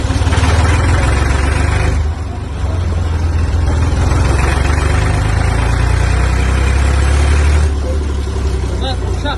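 A 1992 or 1997 Massey Ferguson 240 S tractor engine runs steadily under load throughout, a loud, close, low rumbling drone with a brief dip in level early on and a voice murmuring over it.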